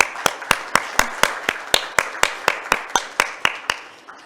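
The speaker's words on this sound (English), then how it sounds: "I think he deserves a better round of applause." A single pair of hands claps in a steady, even rhythm, about four sharp claps per second, close and crisp with no crowd behind it.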